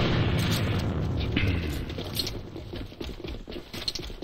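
A grenade explosion in the shooter game A.V.A, a loud rumbling boom at the start that slowly decays into crackling debris and low rumble over several seconds, with no talk.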